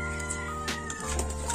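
A gamecock clucks and mutters close by, short throaty calls over a steady background hum.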